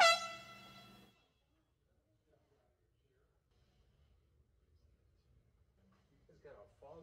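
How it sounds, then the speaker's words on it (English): One loud, blaring air horn blast about a second long at the very start, then quiet, with faint voices near the end. "Oh, it was an air horn."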